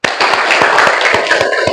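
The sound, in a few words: class clapping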